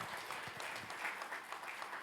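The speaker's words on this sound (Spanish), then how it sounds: "Denle un aplauso a Jesús." A church congregation claps together in steady, dense applause at moderate distance, continuous for a couple of seconds with no voices over it.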